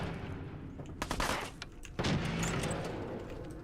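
Gunfire from a weapon in the video game Fallout 4, a quick burst of several shots followed by another loud blast and a lingering rumble, dense and close with no talking.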